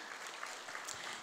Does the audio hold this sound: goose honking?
no